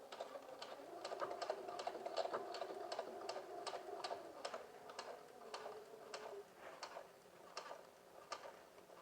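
Sewing machine stitching at stitch length 3.5 on a garment, a quick regular run of mechanical ticks repeating for several seconds, close and fairly quiet.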